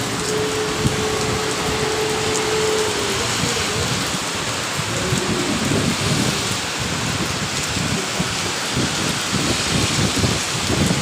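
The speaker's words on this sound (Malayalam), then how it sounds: "ഇനി 2 ദിവസത്തേക്ക് ഇവിടെ മഴയായിരിക്കും കേട്ടോ" Heavy Dubai rain falls in a loud, continuous wash on a street, spattering on surfaces nearby with a low rumble beneath and a brief tonal hum early on.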